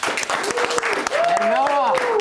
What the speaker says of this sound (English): can we get a round of applause for the first inductee in the HSN Hall of Fame class of 2025, Noah Breck